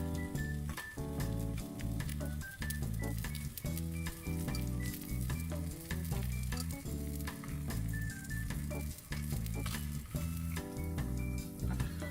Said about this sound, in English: So we'll get that cut up and get it fried off, and then we'll add our egg and see how we go.